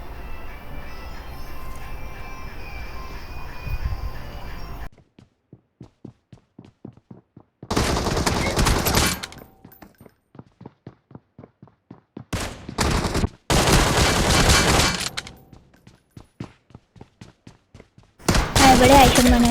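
Gunfire from a Kar98 sniper rifle in a team-deathmatch gun-game shooter: several loud, dense blasts with quiet gaps between them, filled by a fast, regular ticking.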